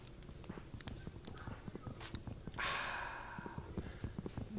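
Horse hooves clip-clopping in a Minecraft survival game, a quiet run of soft, evenly spaced game-sound steps that continues throughout, with a brief burst of other game noise midway.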